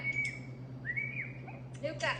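A person whistles in a happy, friendly tone to call dogs, a few short bright whistled notes and rising slides over a steady low hum, with another voice or animal sound near the end.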